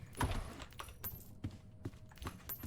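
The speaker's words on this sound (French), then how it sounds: "mon clavier il est ultra bruyant là" Loud clacking of a noisy computer keyboard during a gaming session, with irregular bursts of sharp key strikes and short pauses between them, no voices heard.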